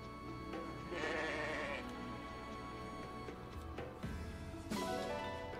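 Sheep bleating in the video game Fire Emblem Engage, a few clear bleats heard over game music and a person talking.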